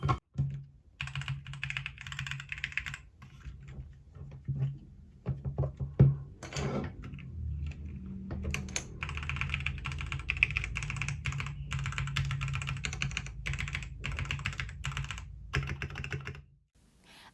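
Mechanical keyboard with a second layer of tape added inside, typed on in steady bursts of muffled, softened key clacks with less clang, near and alone, with a brief pause mid-way.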